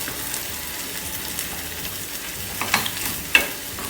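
Egg yolks stirred and broken up while eggs fry in a pan, a continuous close sizzle with a few scraping stirs and small clacks of a utensil against the pan, no voices.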